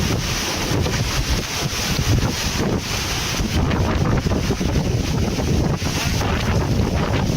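Powerful typhoon wind in Pangasinan roars steadily and loudly, buffeting the microphone with constant heavy gusts and no letup.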